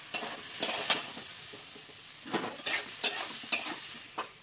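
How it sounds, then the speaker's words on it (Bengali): Spices, cumin and coriander powder, being stirred into a frying fish curry with taro greens, a spoon scraping and clinking against the pan in irregular strokes over a steady soft sizzle, close and alone. "এটা ভালো করে মিশিয়ে নিচ্ছে।"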